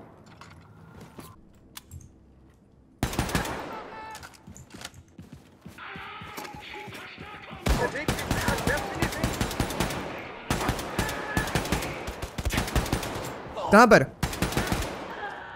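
Sniper rifle gunfire in Wolfenstein II: loud shots and mechanical clatter of reloading and action cycling in dense bursts, with a brief spoken question near the start.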